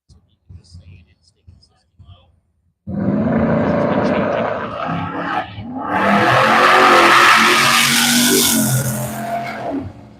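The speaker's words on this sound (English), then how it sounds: "That Chevelle took off nice, big, nice wheelie" Chevelle drag car launching at a drag strip, a sudden loud engine roar that surges and then builds into a harsh, screaming rev, heard close after brief quiet sounds.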